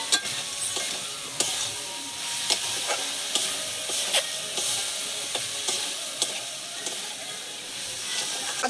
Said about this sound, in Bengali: ভেজে রাখা মোরলা মাছগুলো দিয়ে দেবো, দিয়ে একই সঙ্গে ভালো করে